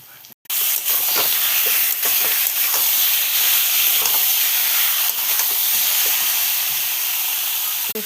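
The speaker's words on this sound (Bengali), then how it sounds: "মশলা কষানো হয়ে গেছে, এখন মাংস ছাড়বো।" Poultry meat drops into a pan of fried spice paste with dried chili and cumin, setting off a loud, steady sizzle and hiss that carries on close by after an initial sharp clatter.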